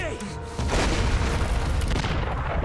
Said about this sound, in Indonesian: Saat Frankie akan pergi, dirinya terkena ledakan dari pasukan artileri Jerman.